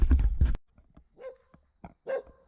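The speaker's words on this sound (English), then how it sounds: "There's an attack dog." A guard dog at an old, dilapidated building in Scotland lets out a burst of loud, close barks, then a few fainter yips and whimpers.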